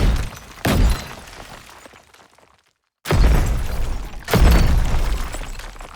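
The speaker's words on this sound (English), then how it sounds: "Loads more debris and breaking glass, etc." Two designed explosions from the Krotos Genesis sound pack, each a sharp boom followed by crumbling debris and breaking glass that trails off, loud and close, separated by a moment of silence.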